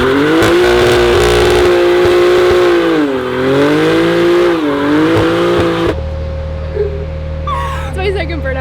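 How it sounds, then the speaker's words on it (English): A BMW G87 M2 holds its engine at high, steady revs during a burnout, the pitch dipping and rising, then shifts to a rougher, lower roar with tire noise. The sound is loud and close, with voices in the car. "It's my second burnout ever."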